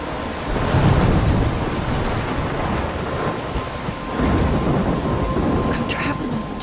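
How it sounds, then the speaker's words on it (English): A video-game thunderstorm: heavy rain hisses steadily while rolling thunder rumbles and swells in low waves, close and loud, with no speech. "I'm trapped in a storm?"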